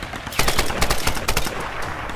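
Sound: gunfire in the video game Tomb Raider 2013

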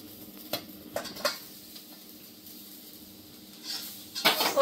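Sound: grated coconut frying and being stirred in a pan

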